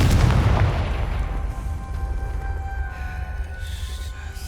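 A Confringo blasting curse detonating in Hogwarts Legacy: one loud booming explosion that hits at once and rolls off over several seconds into a long rumbling decay with faint ringing tones, alone without talking.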